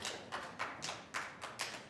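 Slow, sparse claps ring out, about six evenly spaced hits with a roomy tail, sounding like a small group applauding a little distance away.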